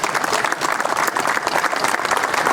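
Brief burst of crowd applause at an Orange Order march presentation, close and lively clapping from many people with a slightly uneven, pulsing texture.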